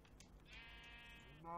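A mountain goat bleats in the Jurassic World video game, one sustained wavering cry of a little over a second, fairly clear against a steady game background.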